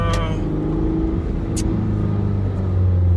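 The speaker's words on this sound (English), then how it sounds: "engine note. Even though it's an inline 4, like, you won't even think that it's an inline 4." A Japanese-market Toyota MR-S with an inline-four engine revving, a steady low engine drone that builds toward the end, recorded close with a couple of brief sharp clicks.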